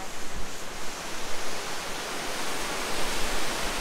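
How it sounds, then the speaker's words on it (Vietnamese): A roaring waterfall pours in a steady, dense, full-bodied rush that stays loud and constant throughout, with no talking. "Lần đầu tiên mà mình có thể thấy được cái con thác mà nó hùng vĩ như thế này luôn á."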